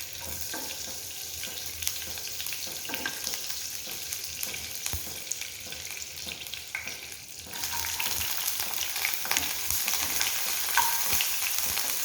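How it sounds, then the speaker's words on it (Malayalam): Chopped small onions dropped into melted fat and frying, a steady close hiss that swells louder halfway through as the pan heats up, with no talking. "ഇതിലേക്ക് ഞാൻ ഒരു അഞ്ചാറ് ചെറിയ ഉള്ളി ചെറുതായി കട്ട് ചെയ്ത് വെച്ചിട്ടുണ്ട് ഇട്ട് കൊടുക്കാം"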